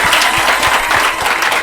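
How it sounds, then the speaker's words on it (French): Loud, dense audience applause at an evening school event in Niger, steady claps continuing without pause throughout. "Applaudissez pour vous-même."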